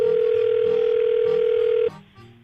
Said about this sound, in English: I'm about to dial Terrence's phone number